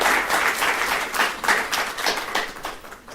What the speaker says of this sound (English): So if we can also please give them a big round of applause.